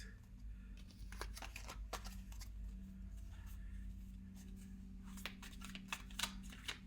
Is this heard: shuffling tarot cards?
yes